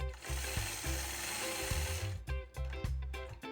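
A sewing machine quilts a feather along a ruler on a quilt border, its needle motor whirring in steady rhythmic bursts with short pauses, loud and close, with no voices.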